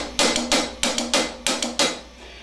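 Funk drum beat played in a repeating figure of two quick sixteenth notes followed by an eighth note, sharp close hits with bright cymbal wash, three phrases in a row and no talking.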